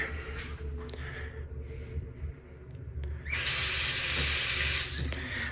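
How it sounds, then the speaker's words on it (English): Water from a hotel bathroom sink faucet in a New Orleans Marriott room gushes on abruptly partway through, running loud and steady after quieter room noise and small clicks. "on the left, as we come in, we have the sink"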